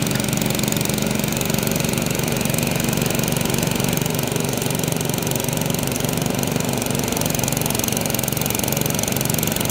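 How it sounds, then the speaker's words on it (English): Concrete power trowel fitted with poly blades finishing a freshly poured slab, a steady, loud motor drone with a low throbbing rumble running continuously and close by. "now we're running the other machine with the poly blades"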